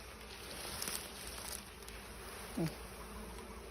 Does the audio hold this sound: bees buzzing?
yes